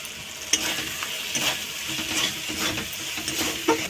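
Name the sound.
spice paste with Kashmiri red chili sautéing in a pan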